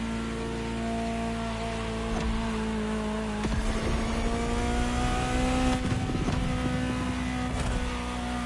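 Engine of a Ferrari supercar in The Crew Motorfest, a steady loud droning note that climbs slowly as it revs and holds through the whole stretch, with a few sharp shifts and no talk.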